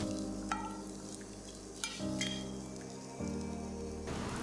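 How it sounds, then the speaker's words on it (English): Ginger and the white parts of spring onions frying in about a tablespoon of oil in a pan, a steady soft sizzle broken by a few sharp clinks and stirring bumps, close and without talk. "Fry this ginger and spring onions"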